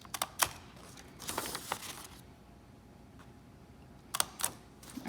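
Paper being punched with a hole punch, a few sharp close clicks and crunches in short bursts separated by a quiet pause.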